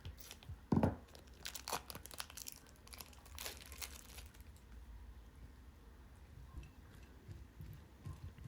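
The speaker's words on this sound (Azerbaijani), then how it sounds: "Bunu rəndədən keçirdirəm." Holland cheese being grated on a grater in a home kitchen: quiet, close rasping and crinkling strokes, a sharper scrape near the start, then fading to soft scratches against low room noise.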